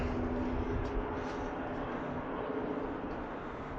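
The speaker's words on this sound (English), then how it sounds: "maybe it was a plane flying over" A low broadband rumble of a plane passing overhead on a chilly, drizzly outdoor walk by railroad tracks, fairly faint and steady, fading slightly toward the end with no talking.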